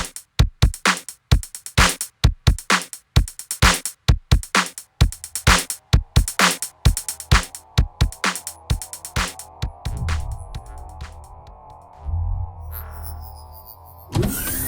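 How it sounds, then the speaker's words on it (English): Sharp electronic snare hits from an SD1 Simpledrum drum module repeat in a quick, steady pattern, then give way to a thinner, fading synthetic texture near the end. "Let's add a simple snare drum."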